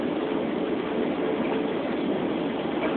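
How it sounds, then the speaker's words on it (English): Long Island Rail Road commuter train on the Ronkonkoma Branch, heard from inside as a steady, continuous rumble and roar of the moving car that stays even and loud throughout. "This is the train to Ronkonkoma."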